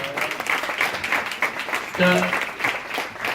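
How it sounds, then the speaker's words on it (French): Applause from a school audience at a collège event, a modest scattering of clapping with a recurring patter, mixed with speech and a brief tonal sound in the middle. "vous pouvez applaudir, bien sûr"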